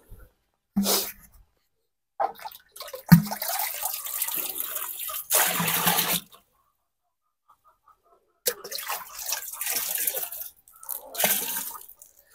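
About a litre of water is poured into a container, heard near. It comes in several separate splashing bursts with quiet gaps between them, and no speech.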